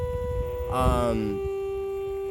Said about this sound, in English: right now I've got the sine wave on there, and you can tell it sounds pretty awful.